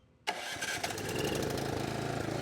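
A snowblower engine, unprimed all season and set on partial choke, catches after a pull-start and settles into a steady, loud running drone with a slightly uneven idle, close up.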